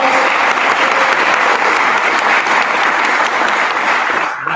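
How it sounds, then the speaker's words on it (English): An audience at a Baltimore County District 2 town hall breaks into loud, continuous applause for about four seconds before it tapers off abruptly at the end. "give Izzy a round of applause"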